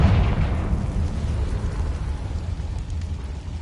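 A deep, rumbling blast from a Confringo fire spell in Hogwarts Legacy, loud at the start with a low boom that slowly decays into a sustained roar.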